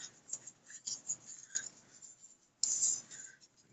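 Paper is folded and creased by hand for an origami USS Stargazer, with close, soft rustling and scraping strokes and a sharper crinkle near the end.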